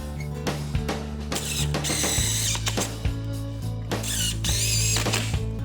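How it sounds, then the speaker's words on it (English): Power drill driving 3-inch screws through a garage workbench frame into wall studs, a loud close whirring motor in repeated bursts with brief pauses between screws and no talk. "it's time to screw it to the studs in the wall. We're going to use some 3-inch screws for that."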